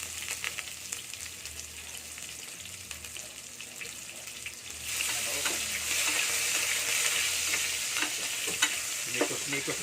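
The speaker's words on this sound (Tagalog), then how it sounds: "At unahin natin bawang. Yan, bawang. Next, sibuyas." Garlic and onion sauté in a pan for chop suey: a steady crackle that jumps louder and brighter partway as more goes in, with stirring clatters close by.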